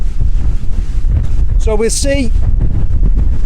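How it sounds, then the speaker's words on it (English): Strong, squally wind buffets a tent at a campsite in 25–30 mph winds with gusts over 40 mph. It roars steadily into the microphone, with someone speaking briefly partway through. "It's got these intermittent gusts, quite squally."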